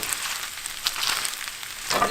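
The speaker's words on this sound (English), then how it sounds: "give that a good little stir" Korean pork gets stirred in a hot pan with sesame seed oil, a quiet sizzle with soft scraping strokes of the spoon and a brief louder stir near the end.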